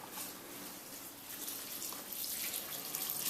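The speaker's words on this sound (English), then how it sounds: "We'll just top water this one." Water poured from a can onto the soil of a potted ficus office plant, a steady close splashing trickle running throughout with no speech.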